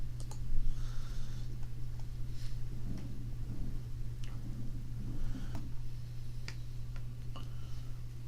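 Sharp mouse clicks land at scattered moments, quiet and close, over a steady low electrical hum with no talking.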